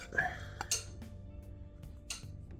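A big rolled breakfast burrito with Japanese curry filling goes into a skillet with a soft thud and a clink of the pan, followed by a low steady hiss of cooking.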